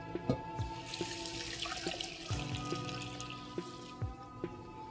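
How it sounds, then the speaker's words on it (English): Low sodium vegetable broth streams into a cooking pot of quinoa, a steady quiet trickle with small splashes and occasional soft clinks throughout, no voices. "With 3 cups of low sodium vegetable broth."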